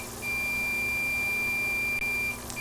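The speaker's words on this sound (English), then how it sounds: "So if you touch anything else that's ground, you'll hear a beep." A multimeter in continuity mode sounds a steady high-pitched tone as the probes touch ground points on an iPhone 7 logic board, one sustained beep lasting about two seconds, clear and close, with a brief chirp near the end.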